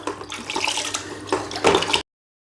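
Water splashes and sloshes steadily as aquarium filter sponges are rinsed in water, loud and close, stopping abruptly near the end.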